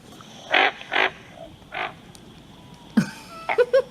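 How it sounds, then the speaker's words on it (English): A pig frog recorded in the wild gives a series of short, deep grunting croaks, a few spaced-out calls then a quicker burst near the end, close and clear over a faint hiss of ambient night noise. "let's try and see, or listen, sorry, to how the pig frog sounds"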